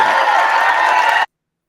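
A crowd of people applauds and cheers together in a dense, loud burst, continuous for about a second before stopping abruptly.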